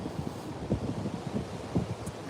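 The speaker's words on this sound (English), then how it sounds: "it is very windy out here" Wind blows outdoors against the microphone in uneven low gusts and rumbling buffets, steady and fairly strong, with no voices.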